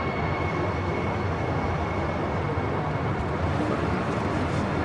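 Trains passing, a steady, loud rumbling roar of rolling rail traffic sustained throughout without voices.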